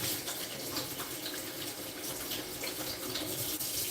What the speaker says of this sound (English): I need to rinse off that hand.